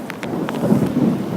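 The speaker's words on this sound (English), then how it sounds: "Raining like crazy." Heavy rain pours steadily during a storm in Piaxtla, Puebla, with a deep thunder rumble underneath. The sound is loud and close and carries no voices.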